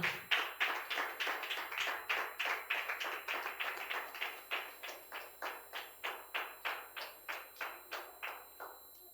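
An audience claps in an even rhythm for a game winner at a church Vacation Bible School final-day program, a steady series of crisp synchronized claps sustained for about nine seconds, moderately close, with no talking.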